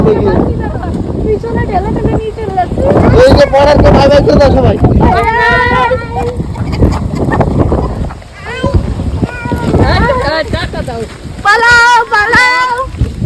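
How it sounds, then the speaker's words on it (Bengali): Gusty wind buffets the microphone with loud rumbling near the Bangladesh border under large clouds, while several people talk over it throughout. "হাওয়াতে পুরো একদম বিশাল হাওয়া দিচ্ছে"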